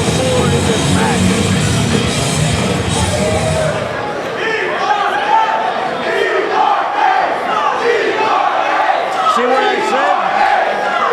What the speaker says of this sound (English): They're chanting for both teams. Listen to this crowd, Kevin.